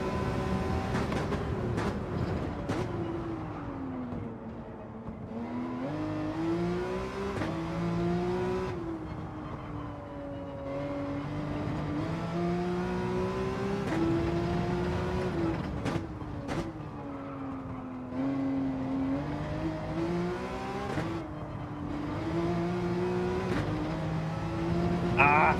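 A Porsche race car engine in Gran Turismo 7 revs continuously through acceleration and repeated gear shifts, a loud, close, sustained drone that rises and falls, with occasional brief sharper notes.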